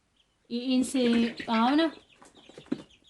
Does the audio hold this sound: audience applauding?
no